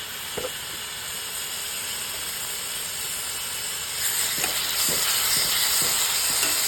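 Onions and tomatoes frying in a pan on the stove, a steady sizzle and steam hiss with a few soft stirring scrapes, growing a little louder in the second half, no voices.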